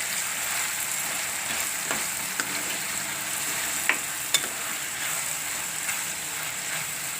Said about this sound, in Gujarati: આપણે એકાદી મિનિટ તેલમાં સડવા દીધું હવે બધું મિક્સ કરી લેવું કે ટમેટા સરસ ઓગળી જાય